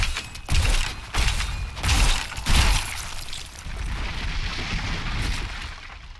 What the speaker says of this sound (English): I do like corpse explosion. It's rather effective in this game.